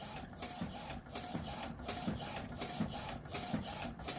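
A sublimation printer runs a print job, Sawgrass printer with sublimation ink, producing a loud steady mechanical whir with a regular pulsing rhythm of carriage passes, close and alone without voices.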